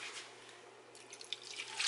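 Water pours into a crockpot holding chicken, potatoes, carrots and celery, a soft continuous splashing trickle that grows slightly louder toward the end, close and alone.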